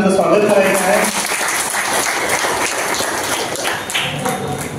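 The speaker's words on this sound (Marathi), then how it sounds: "सर्वजण सरांसाठी जोरदार टाळ्या वाजवून सरांचं स्वागत करायचं आहे" Dense, steady applause from an assembled crowd welcoming an education officer at a district council school function, sustained clapping throughout at moderate distance with no clear break.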